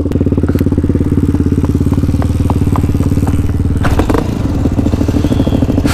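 A supermoto motorcycle engine runs close and loud after being started, with a steady rapid throbbing idle and a few revs and clatters near the end.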